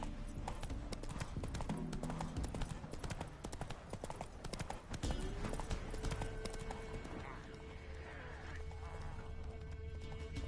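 Roach, the horse in The Witcher 3, clip-clops in quick, steady hoofbeats, loud and close, with a whinny partway through and some background game sounds.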